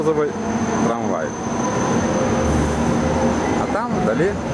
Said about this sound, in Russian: Трамвай.